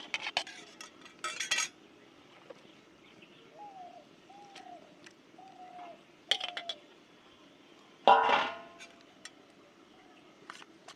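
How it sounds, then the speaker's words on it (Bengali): Beaten eggs are mixed with cabbage, with several bursts of close metal utensil clattering against a bowl separated by pauses, while a bird coos softly in the background. "কফির সঙ্গে ডিম ভালো করে মিশিয়ে নিয়েছি।"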